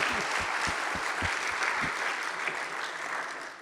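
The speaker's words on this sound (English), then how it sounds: "Can we clap for Head Start?" Audience applause at a program marking Head Start's 60th anniversary, a steady wash of many hands clapping that fills the whole stretch and fades slightly at the end, with no talking.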